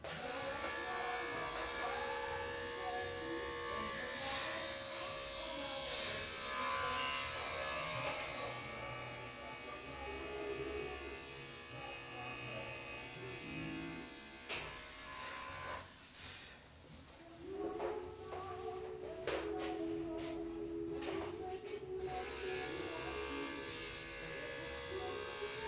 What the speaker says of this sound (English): now all of this clipper work is done